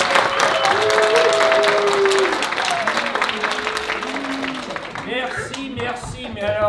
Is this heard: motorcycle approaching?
no